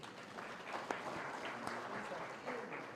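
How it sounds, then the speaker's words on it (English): Scattered applause from a summit audience in a hall, steady and moderately distant, with a few sharper claps and some faint voices mixed in. "Can we give him another round of applause?"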